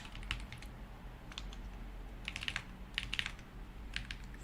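Fingers tap out a password on a computer keyboard while working on a Linux WiFi driver for a Broadcom chip, giving short bursts of quiet, close keystrokes separated by brief pauses over a faint steady hum.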